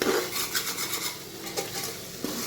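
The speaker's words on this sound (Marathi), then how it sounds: "हलवून घेते छान असं मिक्स केल्यानंतर खाली लागणार नाही" Rice and jaggery mixture is stirred in a cooking pot for khichdi, giving continuous close scraping with a soft background sizzle and occasional light metal clinks.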